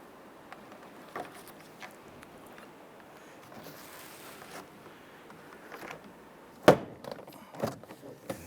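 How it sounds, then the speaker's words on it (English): Quiet handling noise followed by a few sharp plastic clicks and thumps as a car door panel on a 1994-2004 Ford Mustang snaps into place, near and isolated, with no talking. "Go ahead and push that door panel down and into place."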